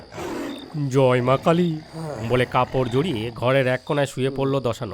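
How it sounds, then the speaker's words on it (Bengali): A tiger roars far off in a dark jungle at night, the low growl under a steady insect drone, with someone narrating over it almost throughout. "অনেক দূর থেকে বাঘের ডাকও আসছে।"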